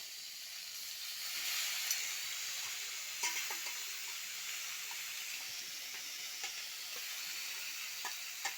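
Pieces of dried fish (sukhua) fry in hot oil in a pan, a close, steady hiss and sizzle broken by scattered sharp pops and the occasional scrape of stirring, with no talking.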